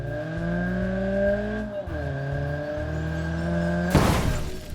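A Fiat Uno engine in the BeamNG.Drive video game drones and revs with a steady synthetic tone, pitch shifting as it accelerates, ending in a sudden crunching impact.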